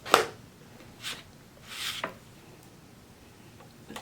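Knife slicing through ham on a board, three short separate cutting strokes spaced about a second apart, close and fairly quiet.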